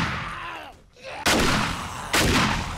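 A shotgun fires in the video game 7 Days to Die, two loud, sharp blasts about a second apart, each with a short decaying tail, following a brief lull in the rumbling game ambience.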